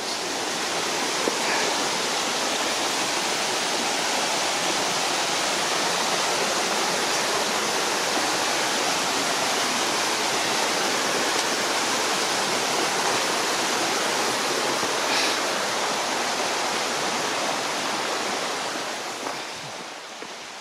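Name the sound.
stream water flowing at Hardcastle Crags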